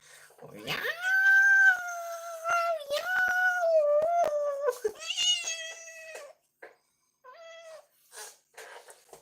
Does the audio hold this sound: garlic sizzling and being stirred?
no